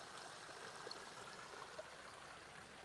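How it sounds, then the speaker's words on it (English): Water from a waterfall spills steadily into an outdoor koi pond, giving a faint, even splashing trickle that runs on without a break. "Waterfall."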